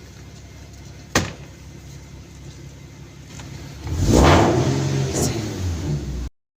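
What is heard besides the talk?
Nissan/Infiniti VQ37 engine running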